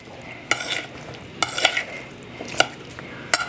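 A spoon stirs and tosses a fava bean salad in a bowl, giving soft wet mixing noise punctuated by four or five sharp clinks of utensil against the dish, close by with no talking.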